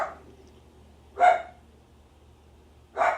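A dog barks indoors, two short sharp barks spaced apart over a quiet low hum, close and moderately loud.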